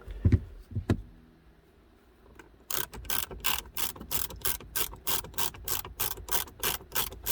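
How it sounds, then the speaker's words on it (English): A small ratchet works screws loose in a tight spot inside a 2014 Ford Focus, a rapid, close series of crisp clicks in a steady rhythm, preceded by a few scattered knocks and handling noises. "this little ratchet that I bought works pretty slick for removing screws at a tight spot like that"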